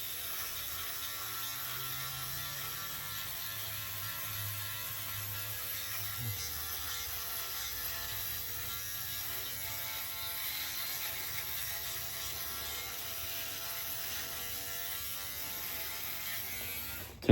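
A Philips OneBlade electric shaver works through a three-week beard, a steady close buzzing hum with faint rasping as it cuts, alone with no talk.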